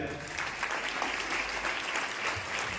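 Students give a round of applause for classmates facing a drawing grade exam, heard as a steady, faint patter of many hands clapping at a distance.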